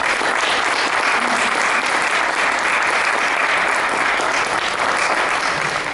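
Steady, full round of audience clapping after a hypnotherapy-style timeline therapy demonstration, loud and continuous with no talking over it.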